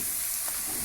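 Garlic, onion and meats, including bacon, calabresa sausage and dried beef, sizzle quietly in a pan as they sauté and are stirred, a soft, steady frying hiss over a short stretch.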